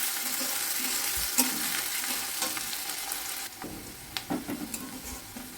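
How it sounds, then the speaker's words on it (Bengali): Onions fry in a pan for palak paneer, giving a steady dense sizzle with occasional scrapes and clinks of stirring, close and continuous. "পেঁয়াজগুলো একটু লাল লাল করে ভেজে নেব।"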